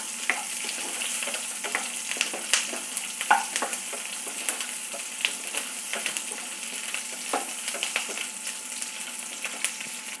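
Onions sautéing in a pan for a radish sambar, a steady close sizzle and crackle with scattered sharper pops and stirring scrapes throughout, no voices.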